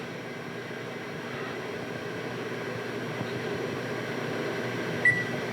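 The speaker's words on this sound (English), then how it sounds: "First thing we'll do is we'll check the microwave." A steady, even hum of an appliance running, like a microwave oven, with a short beep-like blip near the end.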